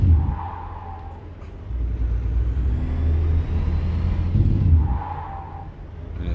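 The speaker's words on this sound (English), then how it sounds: "we'll do the all-important Jake brake test." A heavy truck's Jake brake in American Truck Simulator gives a loud, steady engine rumble with a droning whine that swells at the start and again near the end, with no voices.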